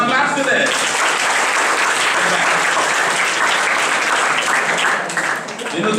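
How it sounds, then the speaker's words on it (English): An audience at a seminar claps together in sustained, dense applause for several seconds, loud and close, with a voice briefly audible at the start before the clapping tapers slightly at the end. "Come on, claps to this."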